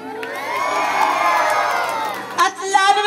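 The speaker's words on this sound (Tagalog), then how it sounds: "pagsasabayin niyo palakpakan at hiyawan" A pageant audience at a Miss Gay contest in Pilar, Bataan roars with sustained cheering, whoops and shouting, loud and crowded, the noise swelling and then breaking into scattered high shouts.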